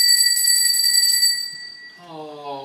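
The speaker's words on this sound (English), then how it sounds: "Oh, there goes the bell." A bell rings steadily and fairly loud for over a second, then fades as a voice starts speaking.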